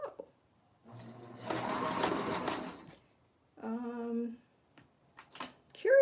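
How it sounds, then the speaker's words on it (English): A sewing machine stitches lingerie, running in one steady, whirring burst of about two seconds, followed by a short vocal-like sound and a few faint clicks. "let's start sewing here"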